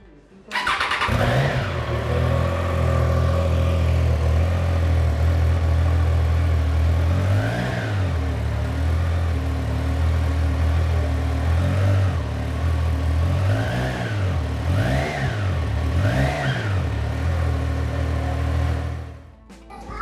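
A Triumph Tiger Sport 660 three-cylinder engine idles with a loud, steady low drone, then blips its throttle several times in short revs before the sound cuts off.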